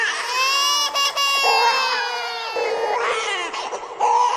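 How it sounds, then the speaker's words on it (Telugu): Small children crying and wailing in rising and falling sobs, loud and close, continuous with short catches of breath between cries. "టాప్ 4 చిన్నపిల్లలు ఏడ్చే సౌండ్"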